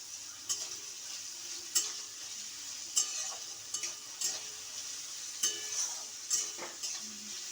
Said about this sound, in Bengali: এটা ভাজা ভাজা হচ্ছে।